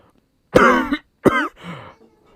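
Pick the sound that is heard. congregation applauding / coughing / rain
coughing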